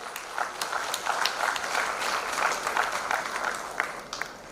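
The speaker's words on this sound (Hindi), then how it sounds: "तालियों की डिमांड कर रहा था, आपने पहले ही कर दी" An audience at a conference program applauds, a moderate crowd clapping continuously with individual sharp claps standing out, steady and fairly close throughout.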